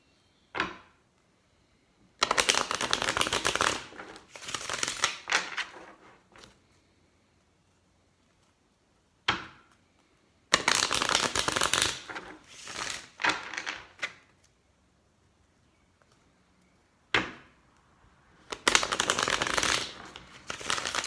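Morgan Greer tarot cards shuffled in three loud bursts of riffling and slapping, each lasting a few seconds with short quiet gaps between, close and clear with no voices.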